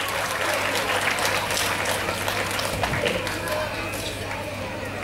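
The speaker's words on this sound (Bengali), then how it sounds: "সবাই জোরে একটা হাততালি।" An audience claps loudly and steadily in a dense wash of applause at an annual yoga event on the Rabindra Sadan stage in Baharampur, sustained throughout with a slight easing toward the end.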